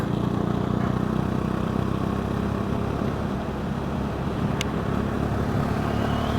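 A KTM 390 Duke single-cylinder motorcycle engine drones steadily while riding a mountain road near Mt Hotham summit, a continuous close, loud engine hum mixed with wind noise throughout.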